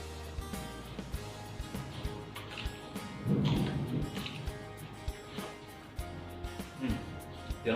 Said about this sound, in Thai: ฝนมาแล้วครับบึมบัมบึมบัมเลย